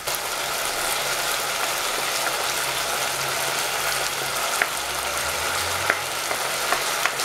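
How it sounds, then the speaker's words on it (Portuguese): Onion frying in a pan during home cooking of a one-pot lunch, a steady close sizzle running throughout with a few faint clicks and taps of utensils. "Agora eu vou começar aqui colocando a minha cebola."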